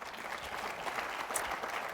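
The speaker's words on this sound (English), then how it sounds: "Give her a round of applause for poetry." An audience applauds a poet in a brief, steady wash of many hands clapping together, with no speech over it.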